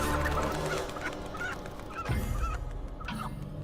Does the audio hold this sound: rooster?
yes